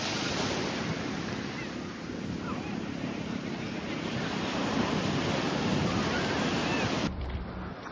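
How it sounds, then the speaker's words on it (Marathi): Big sea waves crash and roar without pause on Kashid beach, a loud, wind-buffeted wash of surf that fills the scene until it cuts off abruptly near the end. "जाम मोठ्या लाटा येतात आता."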